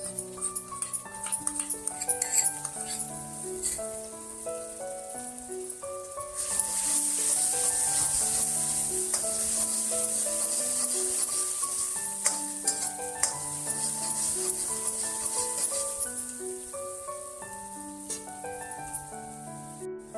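Chopped onion fries in a pan with a thin ginger-garlic paste stirred in, sizzling and hissing steadily, with a bright crackle rising partway through, all under soft background music.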